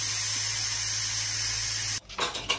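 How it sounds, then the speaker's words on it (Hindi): Loud, steady steam hiss rises while vegetable pulao with cauliflower and peas cooks on a gas stove. It runs close and unbroken for about two seconds, then cuts off abruptly into softer clattering bursts. "अरे भाप आ गई"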